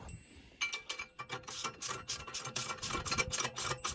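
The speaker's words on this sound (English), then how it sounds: "Okay, 13 millimeter socket wrench." A 13 mm socket wrench ratchets while an electric concrete mixer is being assembled. After a brief quiet start, a fast run of sharp, close metallic clicks keeps an uneven rhythm.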